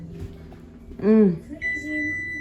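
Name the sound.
kitchen timer going off while baking spaghetti pie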